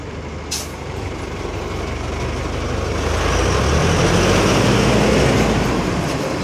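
A truck idles and rolls along a city avenue in Balneário Camboriú, a sharp air-brake hiss near the start, then a broad rising roar of traffic, steady and fairly close.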